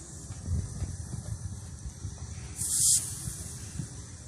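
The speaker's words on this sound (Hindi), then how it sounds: "उसके बाद अब हम इसको ऑयल में फ्राई कर लेते हैं" Triangle slices of bread dipped in egg frying in hot oil, a steady close sizzle and hiss throughout with a brief sharper spray of hissing near the end.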